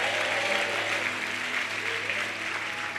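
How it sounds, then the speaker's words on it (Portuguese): An audience at a church conference applauds steadily, a dense, sustained wash of clapping from many hands filling the room without a break. "Dê um aplauso ao Senhor Jesus aí. Diga glória a Deus enquanto você aplaude."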